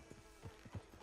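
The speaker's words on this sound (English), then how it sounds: "Get on the horse when you're ready." Horse hooves clip-clop at a walking pace in the video game Red Dead Redemption 2, several soft, evenly spaced thuds, fairly quiet and close, without speech.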